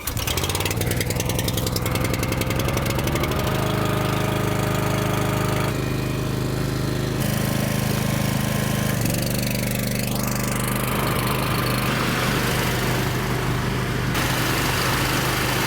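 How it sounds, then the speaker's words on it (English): Two engine-driven blowers inflate a large jump air bag for a dirt-jump MTB kicker ramp, a loud continuous motor drone that shifts in pitch as they run, close by and constant throughout. "we're going to get the bag blowing up. We need 2 blowers for this"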